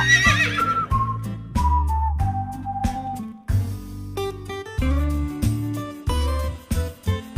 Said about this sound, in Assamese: ঘোঁৰা